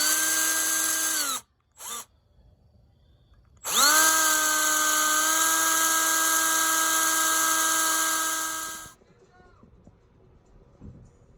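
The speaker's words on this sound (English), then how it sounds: "we are now going to use that old plate to drill the four corner and mark the four corner mounting holes in the new plate" A power drill boring corner mounting holes through a plate in two bursts: a short whine that winds down, a brief pause, then a long steady high-pitched run that spins down, loud and close.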